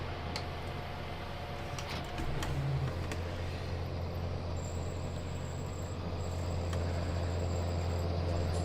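A John Deere 7810 tractor in Farming Simulator 19 drives along a road, its engine a steady low drone with a rising hum and faint ticking, continuous and moderately loud.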